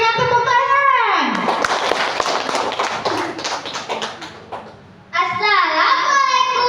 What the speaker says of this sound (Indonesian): Adi Pratama, mari kita berikan tepuk tangan